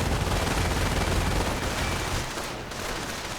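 Dense, continuous gunfire roars through a video game battle as base defenses blast away at riflemen, a loud rattling barrage that carries without pause and eases slightly toward the end.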